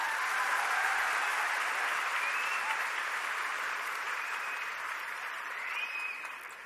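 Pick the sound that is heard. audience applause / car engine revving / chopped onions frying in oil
audience applause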